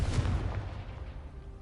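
Explosion from the Confringo blasting spell in Hogwarts Legacy, one deep booming burst at the start that rumbles and fades over a second or so, with no voices.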